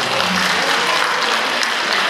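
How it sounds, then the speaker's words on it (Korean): An audience at the opening ceremony of an international folk painting forum in Gyeongju applauds the two mayors, a dense, loud burst of clapping from many hands that holds steady for the whole moment. "축하를 해주신 두 시장님께 다시 한번 박수로"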